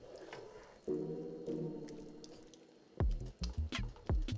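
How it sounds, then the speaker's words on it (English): Water poured into a bowl of chili crab sauce ingredients during Singaporean-style cooking, a short splashing run midway followed by a few louder, close clattering pours and clinks near the end, with no talk. "Add some water"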